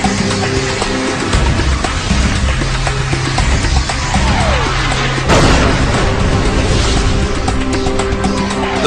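Surface-to-air missiles strike a decoy formation in heavy booming blasts over a dense, rumbling roar, with a sharp, loud explosion near the middle followed by descending whooshes and continued thunderous detonations.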